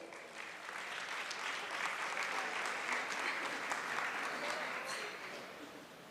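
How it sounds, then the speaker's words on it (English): An audience at a university academic and athletics awards banquet claps steadily, a broad sustained round of applause that swells slightly and then tapers toward the end. "Let's give them a round of applause"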